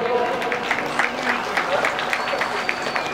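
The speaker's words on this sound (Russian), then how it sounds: "ваш аплодисменты, Андрей Пискарев." Applause from a crowd at the opening of a drifting event in Pinsk fills the clip, a steady patter of clapping with a voice talking over it.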